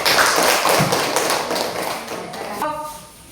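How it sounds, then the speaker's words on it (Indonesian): A classroom of students claps for a presenting group, a short dense burst of hand claps that fades out, with a brief voice at the end. "Mari kita tepuk tangan untuk kelompok satu."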